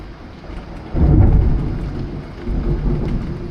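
Steady rain with a deep rumble of thunder rolling in about a second in and lingering, heard outdoors at a rural Japanese property, loud and continuous with no talking.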